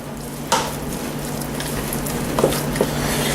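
A spoon stirs salt into BBQ mashed potatoes, making soft squishing and scraping sounds over a steady background hum, with a few sharper knocks against the pot.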